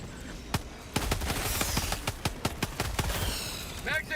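Gunfire in Helldivers 2 on the hardest Helldive difficulty cracks out as a rapid string of sharp shots, some in quick bursts, mid-loud over game noise, tapering off near the end, with no voices.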